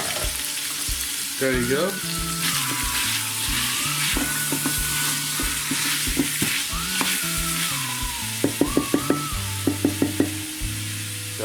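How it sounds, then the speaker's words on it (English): Beef frying and sizzling in a pot for an Indian village-style soup gives a steady hiss with stirring clatter and a run of metallic taps near the end, while a voice speaks briefly. "I'm just going to put all of this beef into this."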